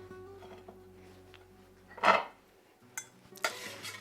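Food tipped into a bowl or platter while making machaca, a faint clink and clatter of dishware followed by a couple of lighter knocks and a brief rustle in an otherwise quiet kitchen.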